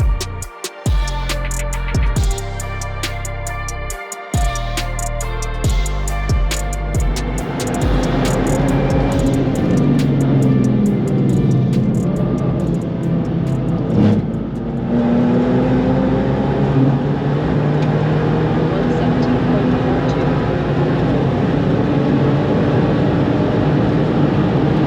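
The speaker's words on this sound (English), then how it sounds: "handed me the keys to his M2, so just going to take Dom out for a couple of laps" A BMW M2 track car lapping a circuit, its engine loud and sustained throughout with rising and falling revs through gear changes and no voices.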